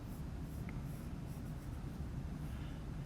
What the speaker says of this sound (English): I'm using a pencil.